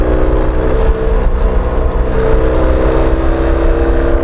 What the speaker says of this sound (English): There's nothing that sounds like a Norton.